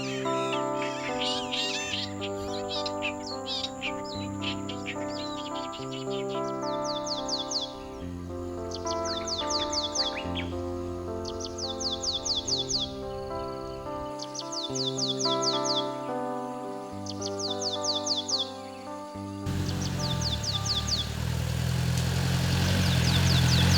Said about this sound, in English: These birds say farewell to each other before they face a long night.